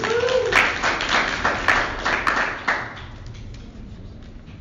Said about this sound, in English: Round of applause for Tina, everybody.